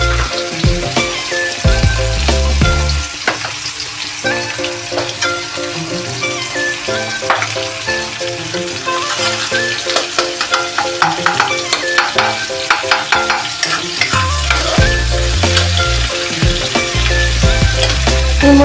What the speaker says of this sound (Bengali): পেঁয়াজটা ভালো করে ভাজা হোক।